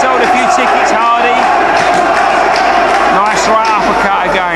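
A boxing match crowd sings loudly, a continuous chant filling the arena, with a commentator talking over it throughout.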